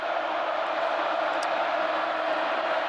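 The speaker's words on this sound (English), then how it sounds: "This crowd making it difficult to communicate" Loud football stadium crowd at a Baylor vs. Kansas State college game, a dense continuous roar of cheering with a faint whistle-like squeal partway through, steady and unbroken.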